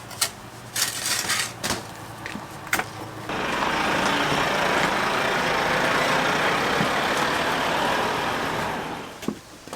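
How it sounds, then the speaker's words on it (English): A lorry pulls in at a barn conversion building site, its broad engine rumble swelling from about three seconds and holding steady and fairly loud before easing off at the end, after a few sharp knocks at the start. "My lorry's back."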